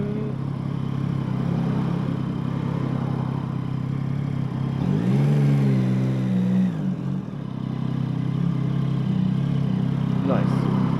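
A Yamaha MT-09 motorcycle engine hums steadily in second gear beneath wind noise, swelling in a brief rising rev midway before settling back to a steady drone.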